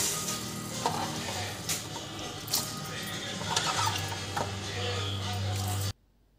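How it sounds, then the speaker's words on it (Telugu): Potatoes and a spoonful of salt are stirred in a pot of hot water while being prepared for french fries, giving a steady close watery swishing with faint scrapes and clinks that stops abruptly near the end. "ఒక స్పూన్ సాల్ట్ వేసుకొని శుభ్రంగా కలిపి పెట్టుకోవాలి."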